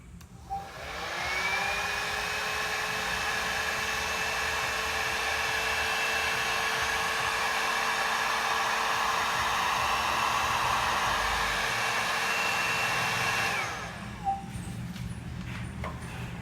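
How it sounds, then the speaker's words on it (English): A heat gun blows hot air with a steady, loud whooshing roar and a faint whine. It starts, runs evenly for about twelve seconds, then cuts off; no one talks over it. "Okay, I have a heat gun."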